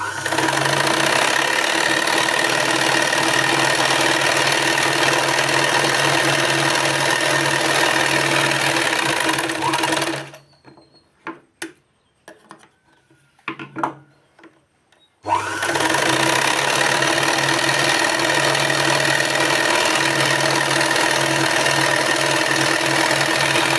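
A sewing machine runs steadily with a loud, even mechanical whir, stops for about five seconds with a few faint clicks, then resumes stitching at the same pace.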